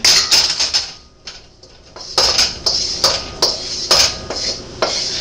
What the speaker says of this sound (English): We're going to go ahead and add our vegetables to this pan.